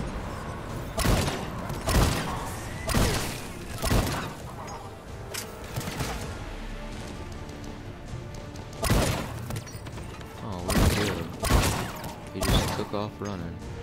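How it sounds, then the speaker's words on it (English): Gunfire rattles in Mass Effect 3 as bursts of sharp shots and thuds arrive in clusters, loud and close, with a generator being hit during a firefight and game sounds underneath. "Oh, somebody shot the generator."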